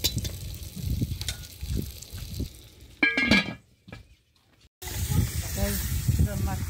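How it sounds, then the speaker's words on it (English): Tomato fries in a pot over an open fire while samp and mutton are cooked, a close hiss and sizzle with clinks from a utensil against the pot, broken by a brief silent gap, and a voice talks over parts of it. "Let it fry now"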